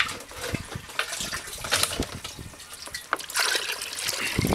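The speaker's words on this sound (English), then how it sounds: "the teachers will simply put some water into our primary filter as the children are arriving for school" Water poured from a drum into a primary filter at a school handwashing station, a steady trickling, splashing stream that swells louder toward the end, close by with no talk.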